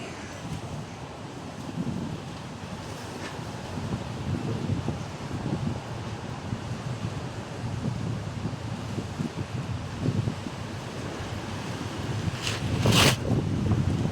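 Strong seasonal monsoon wind gusting over the sea with waves washing in, a constant loud rush and buffeting on the microphone, a few brief sharper knocks near the end, no voices.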